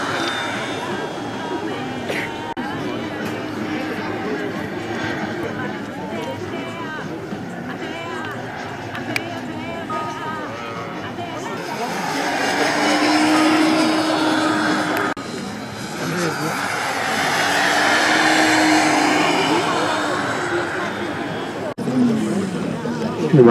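Turboprop seaplane flying and coming in to land, its engine drone swelling and fading over roughly twenty seconds with a busy, rushing background and talk mixed in.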